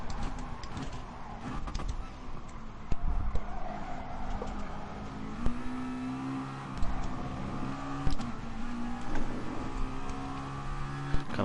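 A race car engine in the Gran Turismo Sport video game drones and revs through an online race, its pitch rising and falling through gear changes, loud and steady.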